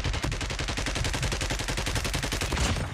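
A mini sentry gun in a video game fires a rapid, unbroken stream of loud, closely spaced shots for the whole stretch, a steady mechanical rattle.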